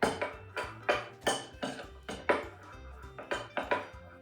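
A spoon stirs yogurt sauce with garlic powder and lemon juice in a bowl, making a rapid run of about a dozen clinking, scraping knocks in an uneven rhythm, close and fairly quiet.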